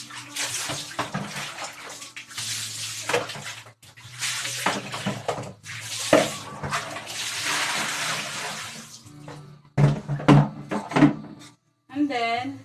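Tap water runs and splashes in bursts into a sink as pet feeding dishes for cats and dogs are washed, with clatter and pauses between pours, close by, while someone talks over it.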